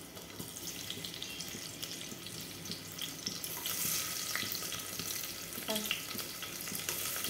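Onion hitting hot oil in a pressure cooker, a steady crackling sizzle that stays loud and fairly even throughout, with small spatters and no voices.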